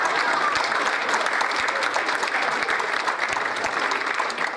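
An audience claps at a law enforcement awards ceremony, a dense, steady roar of many hands, loud and sustained throughout, thinning only slightly near the end.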